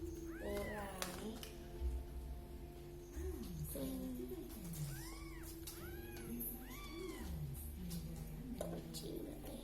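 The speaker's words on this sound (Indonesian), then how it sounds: "Kucing guys." A cat meows several times in a row, each call arching up and down in pitch and sounding close, over a constant low background hum.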